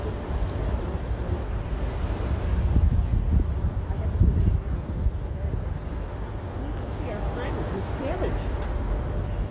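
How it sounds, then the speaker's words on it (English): Wind buffets the microphone in low rumbling gusts, swelling and easing over several seconds, with faint rustling in the background. "kind of windy today, but it's coming in gusts"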